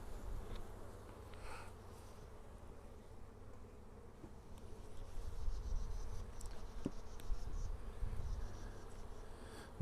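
Honey bees buzzing in an opened hive during a hive inspection in Kentucky, a soft continuous insect hum that swells slightly louder partway through, with no voices.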